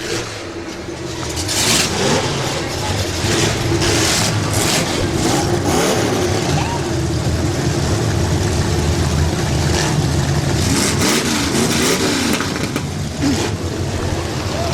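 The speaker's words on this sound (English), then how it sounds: "All right, drivers, start your engines." Several car engines roar and rev together continuously at close range at a fireman's festival demolition derby, a loud, dense rumble with rising and falling throttle bursts throughout.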